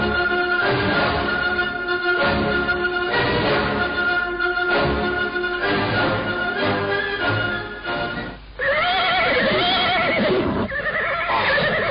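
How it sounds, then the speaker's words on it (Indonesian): Horses neigh and whinny loudly as mounted riders approach in an Indonesian radio drama, with hoofbeats under a dense music bed that shifts partway through, and no voices. "Lihat, ada orang-orang berkuda menuju kemari."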